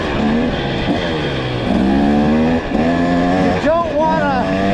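A 2023 KTM 300XC two-stroke dirt bike ridden on studded spike tires in snow, its engine droning and rising in pitch through repeated revs, loud and close throughout.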